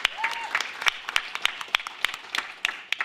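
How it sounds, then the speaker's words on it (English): Banquet audience at a journalism awards ceremony clapping for a silver prize winner, scattered sharp individual claps in an uneven rhythm over a soft crowd murmur, with a brief whistle-like tone near the start. "donc il faut l'applaudir."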